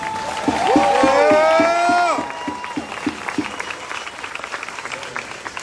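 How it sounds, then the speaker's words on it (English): Crowd clapping and cheering at an outdoor pro-Trump demonstration near the US Capitol rises, then fades out, with voices and calls mixed in and a quieter murmuring crowd afterward. "let's give a round of applause for Anthony Irby"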